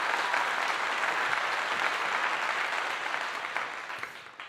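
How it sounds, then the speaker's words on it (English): A round of applause, a dense crowd clapping loudly and continuously, slowly fading toward the end. "Next round of applause for that."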